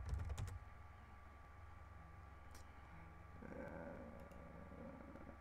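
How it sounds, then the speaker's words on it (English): Faint clicks of a computer keyboard as a password is typed, a few scattered quiet keystrokes over a low, steady room hum. "Type in your password."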